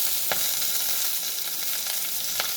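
Chopped ivy gourd sautéing in a pan with green chilies gives off a steady, moderately quiet sizzle and crackle, with a couple of sharper stirring scrapes and no talking.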